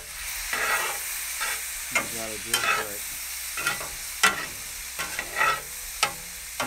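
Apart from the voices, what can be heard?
tempeh sizzling in frying pan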